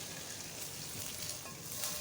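A short burst of loud sizzling as hot spiced oil is poured into cooked whole masoor lentils, crackling steadily for a couple of seconds.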